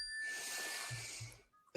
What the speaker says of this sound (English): whenever you hear a bell in your life, just stop